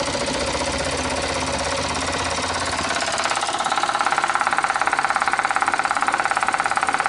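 A homemade guitar pickup winder motor hums steadily and then speeds up into a louder, fast, rattling buzz with a pulsing vibration, close up and without speech.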